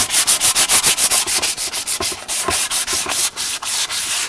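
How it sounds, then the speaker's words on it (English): Rapid, rhythmic scrubbing strokes of wet sanding rust and paint on a metal air filter housing from a 1980 Mercedes 280SE, about four per second, loud and close, with no talking. "We'll keep sanding that out until we smooth it and actually get the paint to taper out"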